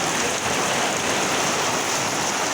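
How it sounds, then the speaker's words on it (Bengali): Heavy rain pours down in a dense, unbroken roar of close, loud drumming on surfaces, with no pauses throughout. "জোরে বৃষ্টি হচ্ছে"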